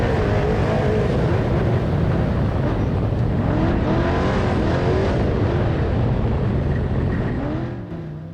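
Loud off-road race truck engine revving up and down continuously, heard up close onboard during the Parker 425 desert race, with rising and falling pitch as the throttle opens and eases.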